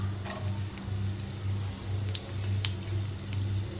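Onion frying in hot oil in a home kitchen, a steady soft sizzle and crackle with scattered pops, fairly faint and continuous with no one talking.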